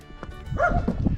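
A small dog gives a few short barks close by, partly overlapping with low rustling and handling noise outdoors near a stable.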